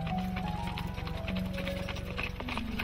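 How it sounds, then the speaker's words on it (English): Horses' hooves clattering in a steady, rapid clip-clop rhythm on a road, heard alongside a sustained low drone and tonal background sound. "The gentle clatter of the horses' hooves, the jingling of the harnesses"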